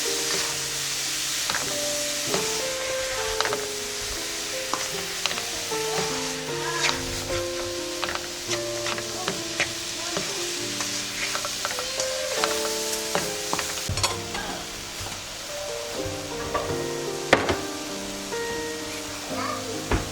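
Cauliflower fried rice sizzling steadily in a pan while a utensil stirs and scrapes through it, with clicks and a continuous frying hiss heard close up, and music playing underneath.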